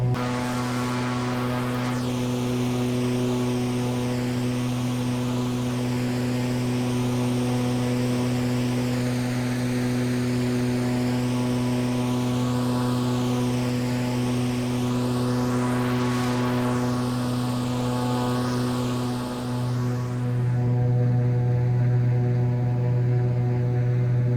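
Steady propeller drone of a King Air turboprop in a VR flight simulator, a loud continuous engine hum with stable harmonics that rises slightly in pitch near the end, heard alone without talk.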